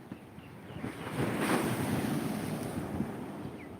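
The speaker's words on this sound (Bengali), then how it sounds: "মারাত্মক লেভেলের ঢেউ উঠছে বন্ধুরা" Surf rolls in at high tide on Shankarpur beach, a broad steady wash that swells in the middle and stays loud, with wind buffeting the microphone throughout and no voices.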